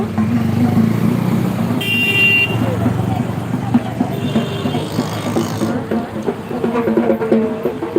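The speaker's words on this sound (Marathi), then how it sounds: "पण बाबा इथे ना ट्रॅफिक आहे" Busy street traffic in Dombivli with engines and passing vehicles, a brief horn-like tone, and people talking throughout.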